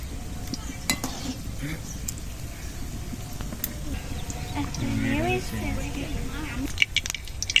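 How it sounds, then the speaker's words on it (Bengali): Gulab jamun fry slowly over a low flame with a steady, close, soft bubbling hiss. Faint scrapes and clinks of stirring rise and fall within it. "হালকা জালে আস্তে আস্তে করে ভেজে নিতে হবে লাল লাল করে"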